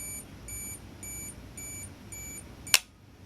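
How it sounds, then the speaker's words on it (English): Olympus XA compact film camera self-timer beeping in a steady rhythm of about six short, close electronic beeps, followed by one sharp mechanical shutter click as it fires. "Here we hear the audible beep, and we can see this light blinking."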